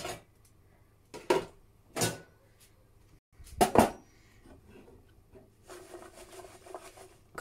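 Trimmed fava beans tumble into a pan in several separate bursts of clattering, rattling taps with quiet gaps between them, followed by softer shuffling.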